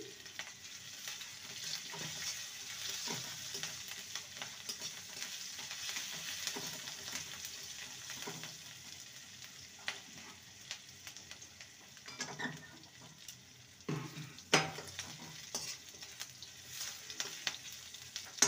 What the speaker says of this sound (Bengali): আদাটাকে ভালো করে কষিয়ে নেব যাতে করে আদার কাঁচা গন্ধটা না থাকে।